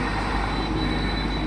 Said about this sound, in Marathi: गाड्या खूप जोरात येतात